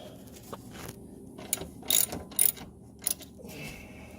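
A ratchet loosens bolts on the composite carbon-fiber under brace of a C7 Corvette, with several short bursts of close, rapid clicking separated by pauses.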